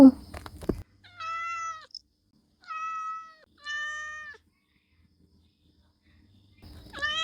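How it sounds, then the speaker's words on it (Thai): A cat meows three times in clear, close, drawn-out calls separated by short silences, with brief faint noise at the start and end. "อ่าแมว"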